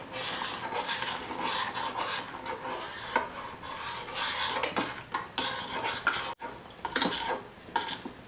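Cornflour slurry being stirred into milk in a pan for homemade mango ice cream, with steady spoon scraping and clinking against the metal for several seconds and a brief pause partway through.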